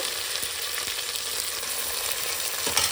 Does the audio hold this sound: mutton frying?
yes